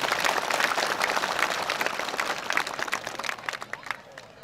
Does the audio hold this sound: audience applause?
yes